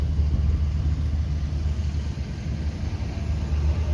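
A big early Steiger Panther four-wheel-drive tractor runs with a low, steady engine rumble at an outdoor vintage farm equipment show, constant and moderately close, with no talking.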